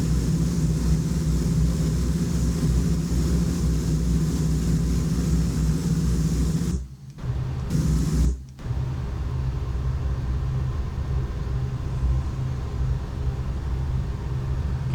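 A freeware Douglas DC-6 propeller airliner in a flight simulator climbs after takeoff, a loud, steady droning rumble of radial engines and props, broken by two brief dropouts near the middle.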